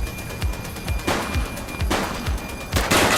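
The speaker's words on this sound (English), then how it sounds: "He's shooting!" Gunfire in the police video game The Precinct, with repeated sharp shots in bursts, some rapid and overlapping, several loud bangs spaced through the stretch.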